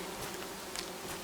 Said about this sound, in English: We have bees or hornets.